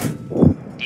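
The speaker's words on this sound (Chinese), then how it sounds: "敌方装甲受损。" A shell strikes and penetrates enemy tank armor in World of Tanks: one short, loud metallic clang with a dull thump, ending in a faint high ring.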